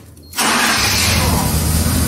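A cold Volkswagen Santana engine with a new starter motor catches abruptly and roars to life, loud and close, settling into a steady rumbling run.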